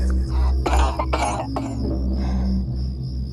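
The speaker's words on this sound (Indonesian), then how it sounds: "dari luar terdengar suara batuk kesakitan." Several harsh, strained coughs burst out close together over a steady low hum, then fade into quiet background noise.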